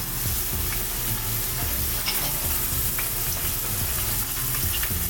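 Chopped shallot sizzles steadily in a hot pan, ready for mussels, with loud continuous frying and the repeated scrape of a utensil stirring it close up; no voices.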